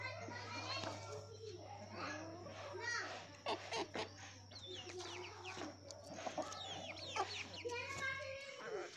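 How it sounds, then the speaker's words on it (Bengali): Home-raised desi chickens clucking around a village yard, with scattered cackles and rooster-like calls mixed with children playing and chattering nearby and a low steady hum underneath throughout. "আজকে আপনাদের ভিডিওতে দেখাচ্ছি আমাদের বাড়িতে পালিত কিছু দেশি মুরগি"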